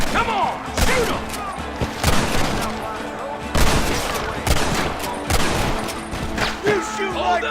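Gunfire in the Red Dead Redemption video game: repeated loud gunshots in irregular bursts, some close and sharp, others overlapping into a rapid volley, with voices shouting in between.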